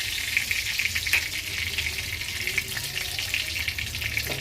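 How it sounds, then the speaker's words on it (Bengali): Bay leaf and whole cumin sizzle in hot oil in a pan, a steady crackling fry with small pops and stirring scrapes throughout, close and alone without any voices. "এবারে দিয়ে দেবো তেজপাতা, এবারে দিয়ে দেবো সামান্য গোটা জিরে"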